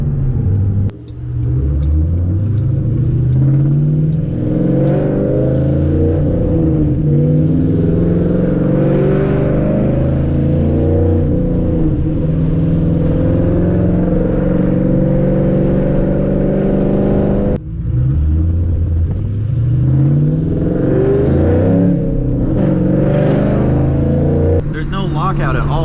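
Ford Mustang engine revving hard and climbing through gears, loud throaty exhaust rising in pitch with each pull, two brief drops in sound where shifts happen, with a voice speaking over the engine.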